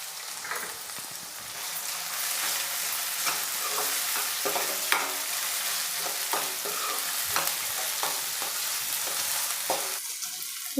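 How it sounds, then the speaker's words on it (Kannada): Onion, garlic and capsicum frying in a pan, a constant sizzle broken by repeated scraping strokes of a spatula stirring close by. "ಈರುಳ್ಳಿ ಸೊಂಟು ಬೆಳ್ಳುಳ್ಳಿ ಪೇಸ್ಟು ಕ್ಯಾಪ್ಸಿಕಮ್ ಎಲ್ಲ ಫ್ರೈ ಆಗಿದೆ"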